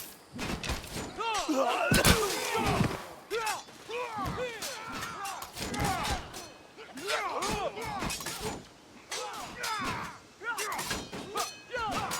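Units shooting in Civilization VII, with bursts of gunfire, thuds and impact crashes in repeated clusters, mixed with game effects and short spoken exclamations.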